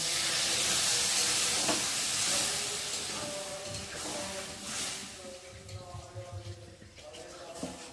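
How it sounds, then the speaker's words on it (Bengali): Soybean curry with green chillies boils after water is added, giving a steady steamy hiss with soft bubbling that eases off toward the end; no one talks over it. "আর এখন আমি জল দিয়ে ভালো করে ফুটিয়ে নেব।"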